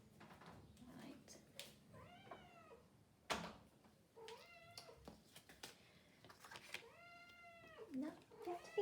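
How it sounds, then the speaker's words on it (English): A kitten meowing indoors near a door during a card-making session, several drawn-out meows spread across the stretch with handling knocks and a voice talking between them. "I'm just going to open the door for the kitten."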